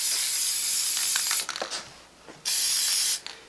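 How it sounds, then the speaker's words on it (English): A spray can blasts a rusty hex nut ring in two long, loud hissing bursts. Short clicks and rattles come in between the bursts, and the hiss cuts off sharply each time. "we'll spray it again"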